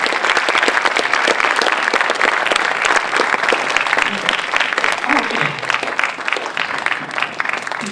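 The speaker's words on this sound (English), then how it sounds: "Please help me to give her one more round of applause." An audience at an evening event gives a long round of sustained, dense clapping that fills the room at steady loudness for several seconds, with faint voices mixed in.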